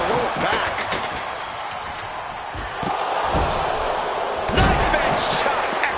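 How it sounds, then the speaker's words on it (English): A knife-edge chop in a WWE 2K25 wrestling match, a few sharp slapping hits ringing out over a loud, steady arena crowd roar with game commentary talking over it. "Knife-edge chop echoing through the arena."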